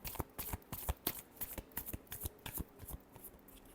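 Tarot cards being shuffled by hand in a steady run of crisp riffling bursts, close and fairly quiet, with no talking over them.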